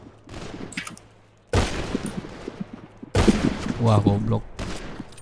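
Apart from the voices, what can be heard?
gunfire in video game GTA roleplay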